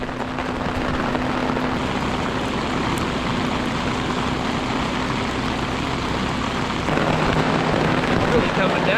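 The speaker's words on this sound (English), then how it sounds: "Oh, it's all of a sudden hailing." Hail pours down suddenly during a storm outdoors, a dense, loud, continuous hiss and patter that builds slightly toward the end, with a voice speaking over it.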